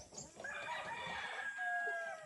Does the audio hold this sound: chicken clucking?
yes